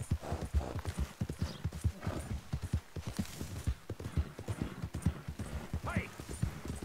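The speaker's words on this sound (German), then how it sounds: "unser Pferd kann wieder extrem lange laufen" A horse in Red Dead Redemption 2 gallops in a steady, rapid clip-clop of hooves, close and continuous, with a short whinny near the end and no talk.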